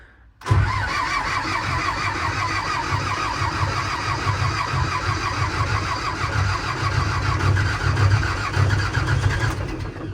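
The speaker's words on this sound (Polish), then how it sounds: "To jest ostrówek i próbujemy robić rozruch." An Ostrówek excavator's engine catches after a short crank and settles into a steady, rough, throbbing diesel idle that runs loud and close for the remaining seconds.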